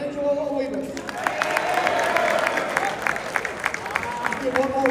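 An audience at a high school football banquet claps for the senior players, a steady patter of applause from a crowd with a voice talking over it throughout.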